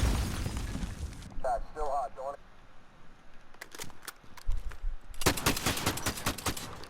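A suppressed AA-12 shotgun in Call of Duty Modern Warfare fires in rapid automatic bursts with muffled, clipped reports, under someone talking.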